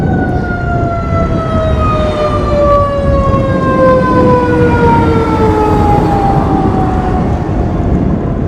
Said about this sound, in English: Hold on, there's a siren going by.